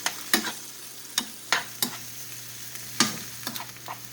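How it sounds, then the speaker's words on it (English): Shrimp cooking in tomato sauce in a pan, a soft low sizzle under a series of sharp stirring scrapes and spoon clicks at irregular intervals, close and fairly quiet. "I'm going to add my shrimp. Shrimp takes about 10 minutes to cook."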